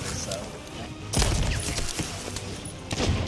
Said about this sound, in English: I killed one with a blunderbomb.